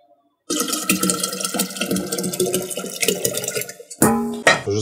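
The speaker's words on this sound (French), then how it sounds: "vais juste rincer mon plat avec mon eau ici" Tap water runs steadily over a dish being rinsed after a brief silence, a close splashing rush that shifts as the dish moves under the stream.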